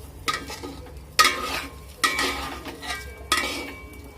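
Rice for pulao is fried and stirred in a pan, with four distinct scraping strokes of a spoon over a soft, continuous sizzle, each stroke close and clear with no one talking.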